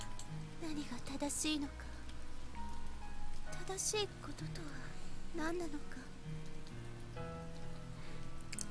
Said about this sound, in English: The rain was still falling hard